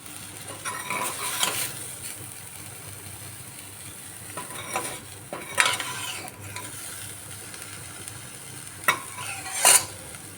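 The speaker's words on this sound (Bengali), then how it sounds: "আমি একটু হালকা হালকা করে ফ্রাই করে নিচ্ছি" Soybean chunks frying lightly in oil in a pan, a low steady sizzle broken by several scraping bursts of stirring with a utensil against the metal, close and fairly quiet.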